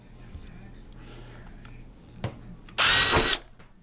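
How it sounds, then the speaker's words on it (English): A power drill bores a hole in the bottom of a can for a beeswax candle: a faint tap and brief whir, then a loud half-second burst of high drilling before it stops, all up close. "now we got a hole drilled in the can"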